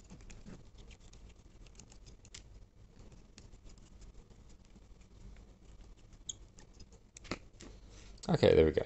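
Small screws being unscrewed from a TinyHawk 2 micro drone: faint, scattered ticks and scratchy clicks close by, ending in a louder burst of handling noise.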